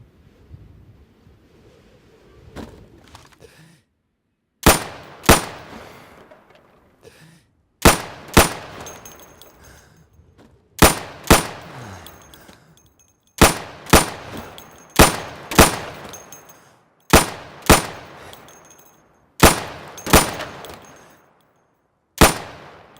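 Sidearm pistol shots in the Insurgency video game, fired at pop-up targets: sharp single cracks, sometimes in quick pairs, spaced out over the whole stretch, each with a short echoing tail and quiet gaps between.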